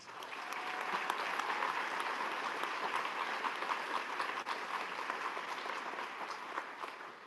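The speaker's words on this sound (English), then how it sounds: "Let's give a round of applause" An audience applauds graduating scholarship recipients at a class awards ceremony, a steady, even roar of many hands clapping that carries on without a break throughout.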